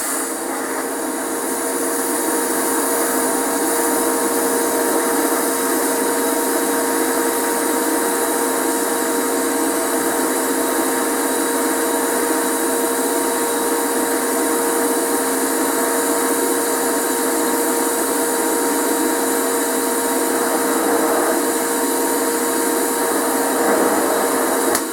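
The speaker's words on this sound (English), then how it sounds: "I had to turn on my homemade fume extractor" A homemade fume extractor runs steadily in a TIG welding shop, giving a loud, continuous fan whoosh with a faint tonal whine that holds unchanged throughout, with no voices over it.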